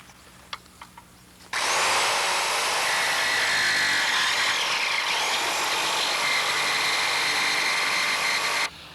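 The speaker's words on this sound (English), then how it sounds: "We're using a saber saw to go ahead and notch out our bow pulpit." A saber saw cuts a notch into a fiberglass boat bow pulpit, a loud, steady buzzing rasp starting after a few faint knocks and running unbroken for about seven seconds before stopping abruptly.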